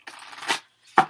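Oracle cards from Doreen Virtue's Ascended Masters deck being laid down, heard as a soft papery shuffle followed by a brief rustle and then one sharper card slap, close and alone.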